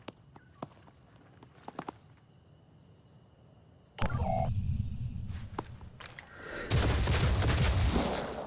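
Gunfire in the strategy video game Phoenix Point: sparse sharp reports give way to a loud sustained burst from about four seconds, then a second dense volley near the end, no speech.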